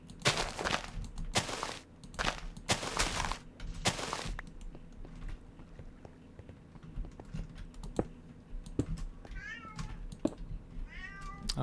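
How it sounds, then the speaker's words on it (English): A house cat meows several times in a room, rising plaintive calls near the end, after bursts of computer keyboard typing and soft clicks. "Oh dear, cat."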